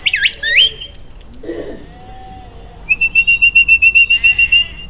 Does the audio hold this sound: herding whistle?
yes